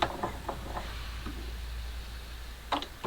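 A bench vise is cranked open during a Jeep Dana Spicer 1310 U-joint replacement, giving faint, scattered metallic ticks and clicks over a quiet low hum.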